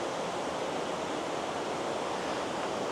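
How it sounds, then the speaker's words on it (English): Water rushes steadily down Purakaunui Falls, a dense, even roar of falling water heard close by and loud, with no voices over it. "you can see down here, the water flowing down there"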